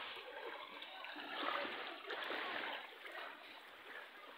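Flood water flows into a house during heavy flooding, a continuous rushing, splashing wash that holds steady at moderate level and swells slightly midway, with no talk over it.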